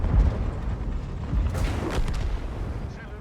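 Artillery shell impacts and booming fire in the tank game Type 71, a dense rumbling battle mix with a louder broadband burst around the middle, no voice over it.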